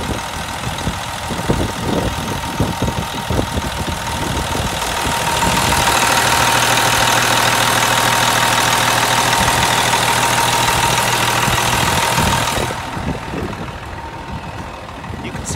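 A 2001 Peterbilt 385 truck with an M11 Cummins diesel and 13-speed transmission idles steadily at an outdoor auction, its engine rumble close and continuous, rising a little louder midway before easing off.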